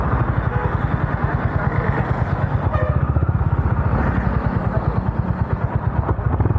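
A Honda Highness CB350 motorcycle's exhaust while riding, a steady, loud, rapid low thump running throughout with no break, with no talking over it.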